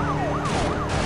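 A police siren from the video game Need for Speed: Most Wanted wails, rising and falling repeatedly over a loud engine roar, a synthetic-sounding chase with the siren close and continuous.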